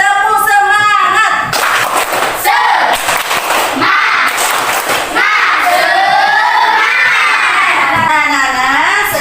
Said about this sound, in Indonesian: Kita tepuk semangatnya dulu. Tepuk semangat.